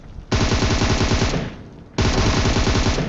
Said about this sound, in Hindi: वो मेरे टीममेट पे लगातार फायर कर रहा था